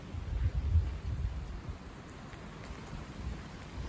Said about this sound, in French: Il repleut même bien.